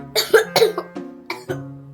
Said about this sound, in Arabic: وكمان بكح